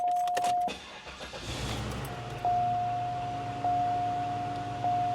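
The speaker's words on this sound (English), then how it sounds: "Start her up." A 2001 Cadillac Eldorado convertible's 4.6-liter V8 with a 4-speed automatic cranks and catches, then settles into a steady low idle. A repeating warning chime sounds nearby before and during the start.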